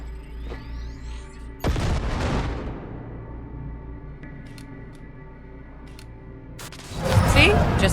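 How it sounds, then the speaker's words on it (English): A grenade detonates in Cyberpunk 2077 with a loud, sudden boom that rolls into a long decaying rumble, followed a few seconds later by a second heavy burst. "Now, detonate the grenade."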